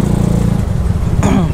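A Yamaha Mio scooter is ridden after a carburetor swap. Its small engine drones loud and close with a steady low buzz, then the revs lift near the end while a voice is briefly heard.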